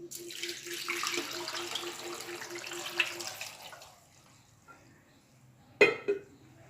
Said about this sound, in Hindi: अभी मैं इसमें 1 जग पानी डालूंगी